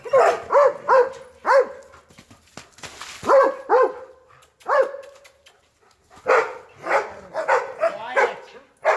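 Several dogs bark in bursts near a wild mustang being haltered, sharp repeated yaps and woofs coming in clusters with brief pauses between, fairly close and loud.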